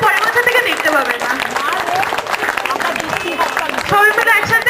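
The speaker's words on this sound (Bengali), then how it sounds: "সবাই আবার আরেকবার হাত তালি" Loud, steady applause from an audience at a Bengali stage performance, dense clapping close by that runs throughout, with voices and cheers mixed in beneath it.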